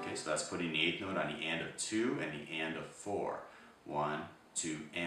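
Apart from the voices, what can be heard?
No everyday noises stand out.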